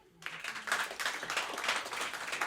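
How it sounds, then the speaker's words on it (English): An audience at a small acoustic live-music venue breaks into scattered, moderate applause that rises quickly and keeps going with steady clapping. "By applause, how many people?"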